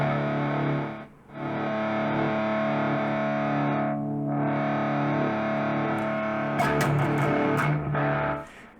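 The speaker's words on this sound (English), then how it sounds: "this is just with the high gain amp" Heavily distorted electric guitar chords ring out through the high-gain amp model of a Positive Grid Spark amplifier, sustained and loud, with a couple of short pauses between strums.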